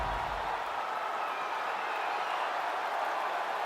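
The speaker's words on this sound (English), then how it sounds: "the crowd voicing its appreciation after that round" Steady crowd roar and applause between rounds at a UFC fight in EA Sports UFC 5, Brian Ortega vs Chan Sung Jung, a continuous wash of cheering filling the arena with no speech over it.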